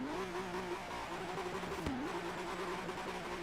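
A modded Ford GT in Forza Horizon 3 launching off the line, its engine note droning at a steady pitch with one brief dip at a gear change, moderately loud and alone.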